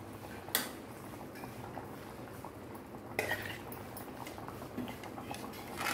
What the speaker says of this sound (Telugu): ఇందులో ఉడుకుతూ ఉందండి